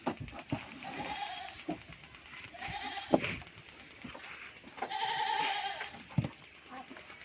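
A goat bleats several times, close and fairly loud, while being loaded among other livestock. Handling knocks and background voices come through between the calls.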